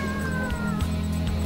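A cat meows over a steady background hum, its tonal cry rising and falling across the short stretch.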